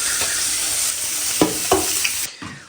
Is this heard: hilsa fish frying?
yes